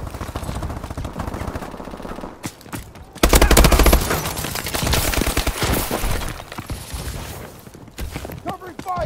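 Rapid automatic gunfire and single shots from Call of Duty: Advanced Warfare multiplayer on PS4, loud and close, with dense bursts, a heavy blast near the middle and voices calling out between them.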